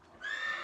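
A Dilboz horse neighs once at close range, a short, bright whinny that rises quickly and holds steady, with no voices.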